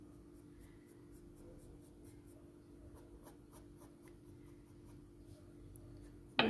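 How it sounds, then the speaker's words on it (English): Graphite pencil shading on paper while drawing dark short fur: soft, close, repeated scratchy strokes in a steady rhythm over a low hum, ending in a sudden louder bump. "the more pencil you add to your paper, the quicker it will become dirty"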